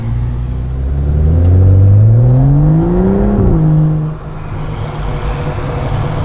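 A BMW 135i with an aftermarket Berk Technology catback race exhaust revs hard, its pitch climbing steadily then dropping off, settling into a deep rumbling idle close by.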